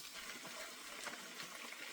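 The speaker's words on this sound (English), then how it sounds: "I'm just going to add just a bit of water." Water pours into an aubergine ragù in a pan, a soft, continuous gushing splash lasting about two seconds, faint and close.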